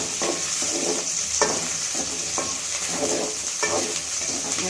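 Dried red chillies fry in a pan along with green chillies for thumbai leaf thuvaiyal, giving a steady, close sizzle with soft periodic scraping as they are stirred. No one talks.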